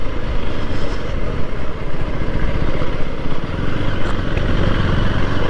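A motorcycle on an early morning ride along a rough, dusty road near Vikarabad: a loud, close, continuous engine drone with a steady rumbling pulse and no talk.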